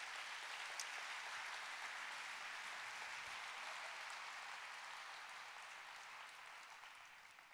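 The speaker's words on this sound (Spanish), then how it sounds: "denle un aplauso a Jesús" A church congregation applauds as one steady crowd, the dense clapping holding loud and even for the whole stretch before easing slightly toward the end.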